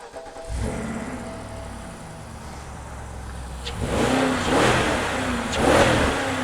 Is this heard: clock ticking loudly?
no